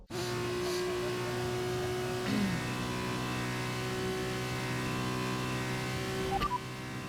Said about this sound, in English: I hit the wall